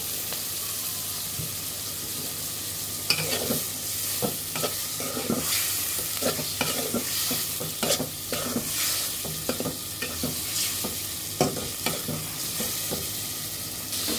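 Loitta, or Bombay duck, fries in spiced masala with a loud, constant sizzle broken by repeated spatula stirs and scrapes against the pan, close up, with no talking.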